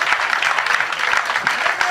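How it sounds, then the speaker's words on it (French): Continuous applause from a church congregation during an Easter Saturday service, many hands clapping steadily and loudly, some voices audible within the crowd. "Applaudissez pour le Seigneur."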